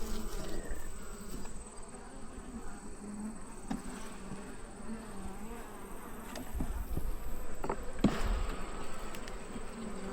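Honey bee colony in an opened Paradise-style hive box, frames of brood and food exposed: a continuous, dense buzzing hum close by, with individual bees droning past and light knocks of frames being handled.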